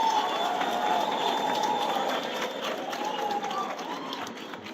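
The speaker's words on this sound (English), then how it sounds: "A round of applause once again, just to" A graduation ceremony crowd at Tshwane University of Technology applauds the graduates with sustained clapping, dense and steady, under a tonal hum and a faint voice.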